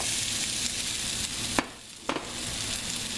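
Potatoes fry in hot grease in a pan for papa ranchera tacos, giving a steady close hiss and sizzle broken by a couple of sharp clinks and a brief dip in the crackle.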